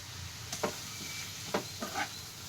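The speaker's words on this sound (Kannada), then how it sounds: "ಚೆನ್ನಾಗಿ ಫ್ರೈ ಮಾಡಿಟ್ಕೊಳ್ಳಿ." Onions frying in oil in a pan and being stirred, a steady sizzle close by with three or four short scraping strokes of the spoon and no voices.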